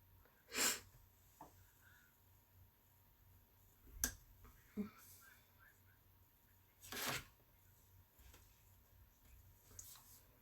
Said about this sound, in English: Hear my cat sneezing